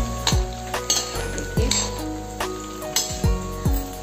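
Soya chaap roasting in a pan over a low gas flame: a steady sizzle broken by repeated metallic clanks and scrapes of a spatula against the pan, close and fairly loud, with no talking.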